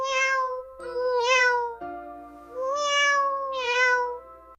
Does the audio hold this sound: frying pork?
no